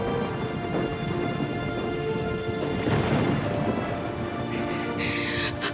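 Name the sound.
thunderstorm with heavy rain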